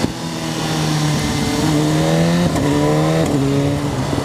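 A 2015 BMW S1000RR sportbike engine revs hard, then its note drops and climbs again in quick blips as the throttle shuts and an auto blipper works the shifts, loud and close with no talking.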